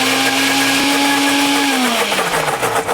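A blender whirs loudly and steadily through cashew cream and pineapple for a plant-based tropical dessert, its motor pitch dropping slightly toward the end, with no talking.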